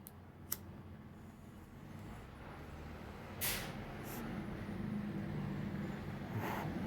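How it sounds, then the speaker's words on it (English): A truck passes outside, heard faintly and at a distance behind indoor room tone, with a brief hiss-like swell midway that suggests an air brake. "If you hear that, it's a truck."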